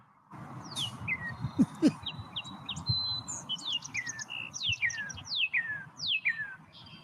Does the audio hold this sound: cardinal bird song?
yes